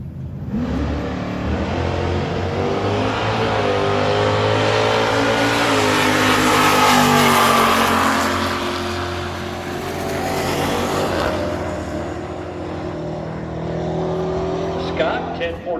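Drag race cars, a Ford Mustang and a 2019 Dodge Hellcat, roar loudly at the strip, engines revving and surging in a sustained pass that swells midway and fades slightly, with an announcer's voice over the din.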